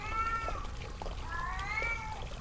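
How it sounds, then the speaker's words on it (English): Cat meowing in the video game Erie: two drawn-out, wavering meows, the second longer and rising, heard fairly close over a low rumbling ambient background. "it's a cat. There's a cat."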